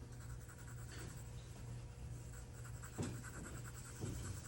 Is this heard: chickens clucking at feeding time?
no